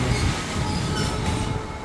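An electric train runs past at close range in a market area, a loud steady rumble of rolling wheels and carriages with faint squeal and clatter, continuous throughout and with no talk.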